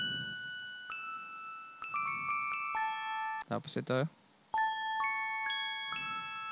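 Bright bell tones ring out in a jingle arrangement for the University of Batangas, a string of sustained ding notes entering one after another, with a short spoken phrase over them partway through.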